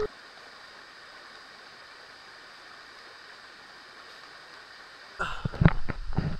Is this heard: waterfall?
yes